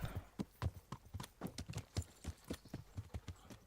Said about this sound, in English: We're going to walk, riding horse for the next 3 days.